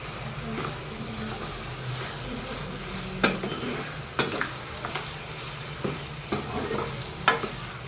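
Garlic sautés in sesame oil in a pan for a garlic kuzhambu, a steady close sizzle broken by several sharp scrapes and clacks of stirring.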